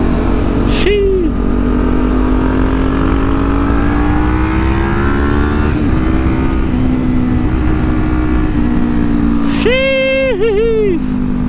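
A Kawasaki Ninja 400 ridden through corners, its engine a loud, steady drone rising and falling in pitch under constant wind rush, with short voiced exclamations from the rider near the start and end.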